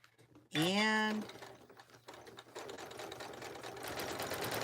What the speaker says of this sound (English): I'm going to stop and back stitch, and back stitch, just because we don't want that to come undone. All right, we are done sewing it.